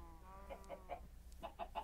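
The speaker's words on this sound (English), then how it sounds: "Lots of chickens out here." Chickens clucking in Minecraft, a quiet run of short, repeated clucks that comes in two loose bursts over a low ambient hum, with no speech.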